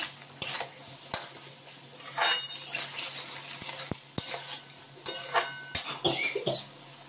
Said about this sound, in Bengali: আবারও সুন্দর করে বেশ কষিয়ে নিলাম।